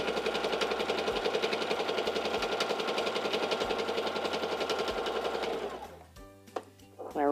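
A Singer Simple 3337 sewing machine stitches fabric in a fast, steady, loud mechanical chatter for about six seconds, then slows and stops, leaving a few soft clicks and brief talk at the end.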